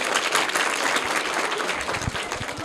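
Schoolchildren in a classroom quiz give a short, loud burst of applause for a student's correct answer, dense and continuous throughout.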